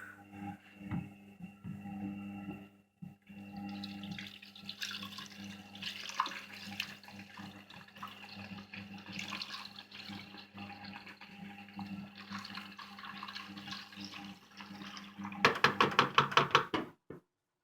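Liquid poured into an Arçelik 3320 washing machine, a steady watery trickle and splash over a low background hum, ending in a burst of quick rattling knocks.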